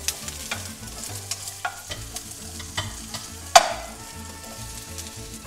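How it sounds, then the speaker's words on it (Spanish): Large onion slices hit a pan of minced garlic already frying, with a steady sizzle under repeated stirring scrapes and clinks of a utensil, and one sharp clank midway. "Y le vamos a agregar la cebolla que corté en rebanadas grandes."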